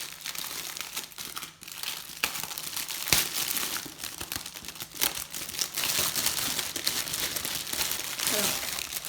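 Tissue paper crinkling and rustling as it is unwrapped from a package, with irregular soft crackles and tears continuing throughout, close and moderately loud.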